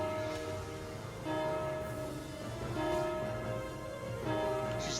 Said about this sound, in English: Now ring the bell 5 times.